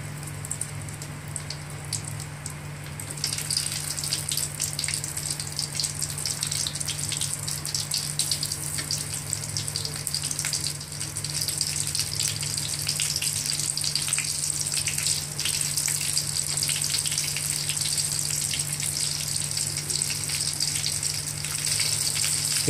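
Stuffed brinjal frying in hot oil in a pan, a steady loud sizzle that bursts up as the pieces go in and keeps crackling and hissing throughout over a low burner hum.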